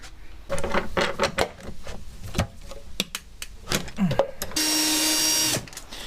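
Screws being removed from the kick plate in an NA MX5 Miata interior: scattered clicks, knocks and rattling of tools and trim, then a steady high-pitched power-tool whir lasting about a second near the end.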